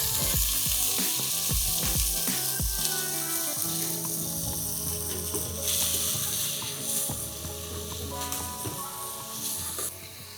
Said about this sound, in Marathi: सगळ्या भाज्या आपण घालून घेऊया.